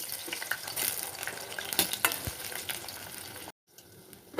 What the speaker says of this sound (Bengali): এই তেলের ভিতরে আমি বেগুনগুলোকে ভেজে নেব।